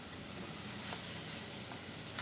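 Dill frying in a hot pan gives off a steady, close sizzle and hiss that holds level throughout, with faint stirring scrapes and no voices.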